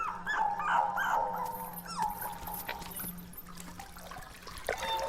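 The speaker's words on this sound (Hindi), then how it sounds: "बेचारा कुत्ते का बच्चा अंदर गिर गया है रवि" A puppy that has fallen in whimpers with several thin, rising cries over trickling water and low background noise, heard as a scene from a Hindi-dubbed South Indian film.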